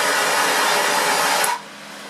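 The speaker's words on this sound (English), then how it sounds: "I'm now going to increase the speed of carbon monoxide generation by heating the bottom flask gently with a torch" A torch flame roars steadily while gently heating the bottom glass flask of a carbon monoxide generator, a loud, close, even hiss that cuts off abruptly near the end, leaving quieter background.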